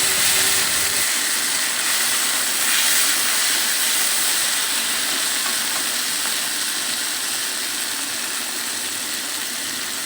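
Tomatoes fry in hot oil, a loud continuous sizzle and hiss that holds steady throughout with no voices.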